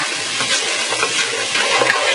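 Chicken filling for Brazilian coxinha being stirred in a frying pan with a little water and seasoning, a continuous close scraping and bubbling sizzle with no voices.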